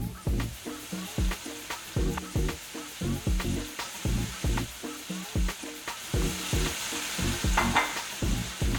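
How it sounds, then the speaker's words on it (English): Onions and carrots sweat in a hot pan with a constant close sizzle, broken by a fast, rhythmic run of stirring scrapes from start to finish. "just sweat out the onions here and just cook this down about 5 minutes or so"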